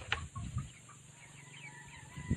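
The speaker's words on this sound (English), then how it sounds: "Then the chicken are just disturbing me here." Chickens cluck in short scattered bursts beside an outdoor pool and garden area, with a couple of louder close calls at the start and end over faint steady background noise.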